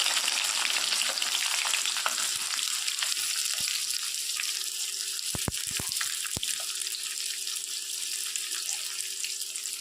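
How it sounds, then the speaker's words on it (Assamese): Loud, continuous sizzle of chopped onions frying in hot oil in a kadai, close up, with a few sharp taps against the pan partway through. "কেৰাহীত তেল গৰম হৈ গ'ল, সেই গতিকে মই ইয়াত কাটি ৰখা পিঁয়াজখিনি প্ৰথমে দি দিছোঁ।"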